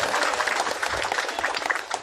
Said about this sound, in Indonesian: Beri tepuk tangan para anggota Dewan kita.